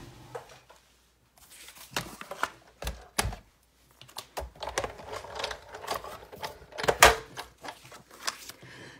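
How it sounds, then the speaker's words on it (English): A Big Shot die-cutting machine cuts paper birthday hats, giving an uneven run of mechanical cranking and pressing clatter with short pauses, loudest near the end, with no one speaking. "Now I need to bring in my big shot so I can cut out the birthday hats."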